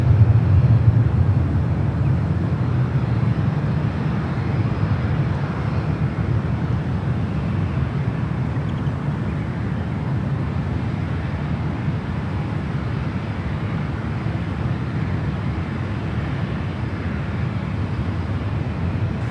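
A jet airliner landing at San Francisco airport gives off a steady, broad roar that fades slightly over time, heard from a distance with wind noise and no voices.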